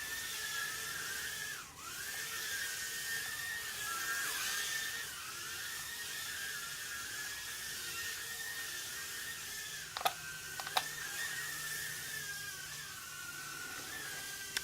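An Eachine E010 mini drone with prop guards flies and flips, giving off a steady high-pitched motor whine whose pitch wavers and dips. A few sharp clicks, like light bumps, come near the end, with no talking.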